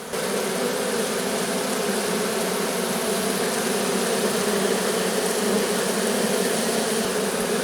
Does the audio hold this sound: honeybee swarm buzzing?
yes